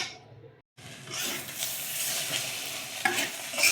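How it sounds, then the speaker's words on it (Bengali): Lentils (dal) with a little water left in them sizzle as they fry in a pan for a pitha filling, while a spoon stirs and scrapes through them steadily, close and continuous with no talk. "ডালটাকে খুব ভালো করে ভেজে নিচ্ছি"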